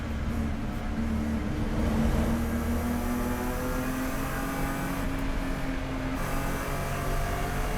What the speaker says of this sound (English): You can hear the car, the engine with the throttle application is just a little jerky sounding.